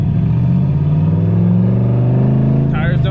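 650 hp turbo GTO on Kenda Kaiser KR20A semi-slick tires in cold weather, close, steady, throaty engine drone under a light throttle hit, with a brief burst of higher sound at the end.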